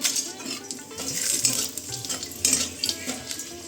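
Bay leaves, whole garam masala and dried red chillies frying in white oil in a pan, a steady sizzle with utensil scrapes and clinks as they are stirred, close and without talk.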